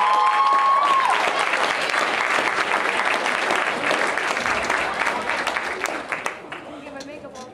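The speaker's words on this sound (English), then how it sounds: "Another round of applause for the graduates." A graduation ceremony audience gives the graduates sustained applause, dense clapping filling the hall for several seconds before tapering off, with a voice briefly speaking over it.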